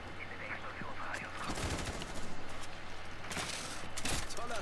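Gunfire in Rainbow Six Siege, a match on the Oregon map, with bursts of rapid shots and sharp cracks scattered across a busy mix of game sound and faint voices.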